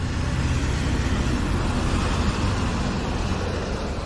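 Rear-mounted engine of a Lions Intercity bus idling with a steady low rumbling purr, heavy bass drone continuous throughout, close and fairly loud with no talk.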